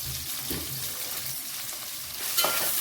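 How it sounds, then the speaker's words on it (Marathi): Onions and green chillies sautéing in a pan for a radish dish, a steady quiet sizzle with a few stirring scrapes and a brighter hiss near the end, close by. "हे कांदे परतूया आपण परतून घेऊया"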